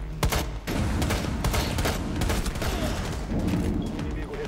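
Rapid gunfire from a shooter video game rings out in loud, dense bursts of overlapping shots that continue almost without a break, with a few sharper single cracks near the start.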